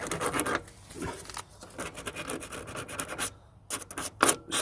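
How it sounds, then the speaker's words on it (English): Sandpaper rubs and scratches over dirty electrical contacts on a van door, giving close, uneven rasping strokes in irregular bursts with short pauses between them. "Not the best sandpaper, but it will do the job."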